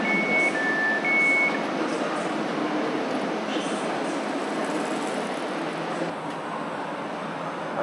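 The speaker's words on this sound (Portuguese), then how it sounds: "Aqui é o trem" Inside a moving passenger train: a steady broad rumble of wheels and carriage noise, with a faint high electronic tone early on and quiet voices mixed into the hum.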